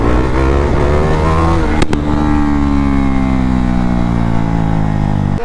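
A motorcycle engine revs hard and steadily throughout during a wheelie, a loud, close, continuous roar with a brief sharp crack partway through.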